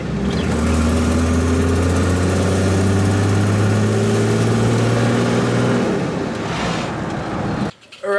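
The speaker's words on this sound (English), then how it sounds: "just taking it for a drive up and down the street a couple of times" A Nissan GQ Patrol diesel drives along a residential street with injector cleaner in the tank, its engine a loud steady droning rumble close by that holds for several seconds, then cuts away abruptly.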